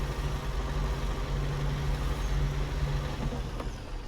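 Truck engine idling steadily in the off-road driving game Snowrunner, a continuous low drone with no breaks, heard alone without talk.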